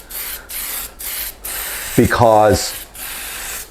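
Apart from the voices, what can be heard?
spray can spraying primer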